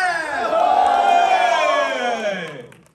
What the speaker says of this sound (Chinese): 让我听到你们的欢呼声